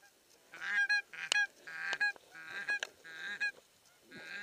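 Loud, nasal honking calls from several ducks overlap in quick bursts, close by, with brief gaps between the volleys.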